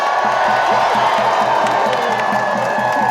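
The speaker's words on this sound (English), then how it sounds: "Look at this crowd." A large crowd at an outdoor rally outside the Consumer Financial Protection Bureau cheers and shouts continuously, loud and dense, with whoops and scattered clapping.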